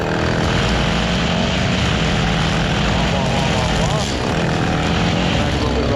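A lawn mower engine drones loudly and steadily throughout in an outdoor yard, a continuous mechanical roar with no break.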